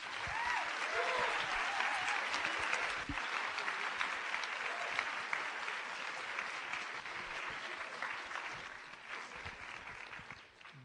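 An audience applauds to welcome President Larry Summers to the stage, a sustained round of clapping from a full room that lasts about ten seconds and fades slightly at the end.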